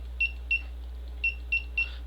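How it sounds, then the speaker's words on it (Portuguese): An ATmega328P circuit with a push switch sounds five short, high electronic beeps in quick succession over a steady low hum, close and clear, with no talking. "Se eu apertar a minha chavinha, vocês estão vendo o bipzinho"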